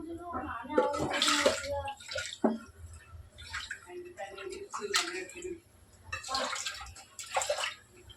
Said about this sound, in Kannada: ಈ ಥರ ಆಗಿದ್ರೆ ಇನ್ನೊಂದು ಸ್ವಲ್ಪ ನೀರು ಹಾಕ್ಕೊಡ್ತೀನಿ.